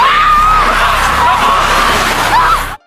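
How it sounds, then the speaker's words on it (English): A horrifying scream heard over a phone call in the zombie survival film #Alive, sustained and piercing with wavering pitch for nearly three seconds, loud and harsh before cutting off abruptly. "He never expected to hear such a horrifying scream on the other end of the call."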